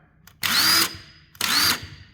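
A Craftsman 19.2 volt half-inch cordless impact wrench fires two loud, close bursts of about half a second each. A short gap separates them, and each burst has a high whining motor tone.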